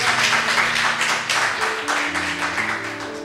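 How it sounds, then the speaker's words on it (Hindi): An open-mic poetry audience applauds for the Indian Army: a dense, steady wash of many hands clapping that runs the whole time, with sustained musical tones held underneath. "इसके लिए मैं पहले चाहूँगा आप ताली बजाना इंडियन आर्मी के लिए"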